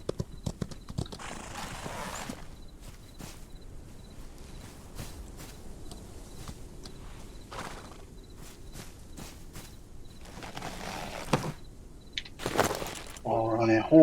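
Horse hooves clip-clop at a steady walking pace in the video game Outlaws of the Old West, with occasional louder hits, a short whinny and interface clicks near the end.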